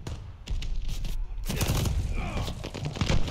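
Rapid bursts of video game gunfire, a loud fusillade of repeated shots crackling close and dense for the whole stretch, with a brief gap near the start before the volley intensifies.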